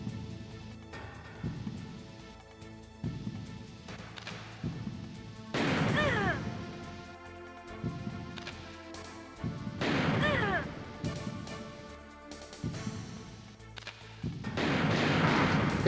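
Gunshots fired at a wall in Metal Gear Solid, a series of loud crashing impacts arriving at irregular intervals amid quieter game sounds, with occasional talk.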